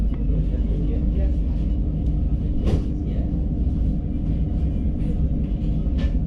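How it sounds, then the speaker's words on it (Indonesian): Sawunggalih passenger train pulling out of Purwokerto station, a steady low rumble of the moving carriages heard from on board, with faint rattles and a brief clank midway. "kereta api Saung Galih yang saya naiki diberangkatkan kembali"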